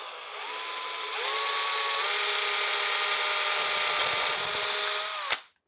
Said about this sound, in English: I can now drill the hole for the new real screw